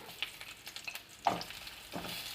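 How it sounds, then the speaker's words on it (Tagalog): Ginger sizzles in sesame oil in a pan for a beef stir fry, a soft steady crackle with a couple of louder bursts as the spatula moves it around, quiet and close. "Using the same pan, add sesame oil, ginger,"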